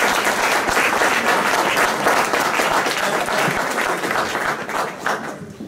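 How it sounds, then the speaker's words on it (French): A French audience at a talk applauds a lawyer with sustained, dense clapping at close range, holding steady for several seconds before easing slightly toward the end. "j'espère qu'on va tous l'applaudir parce qu'il le mérite vraiment"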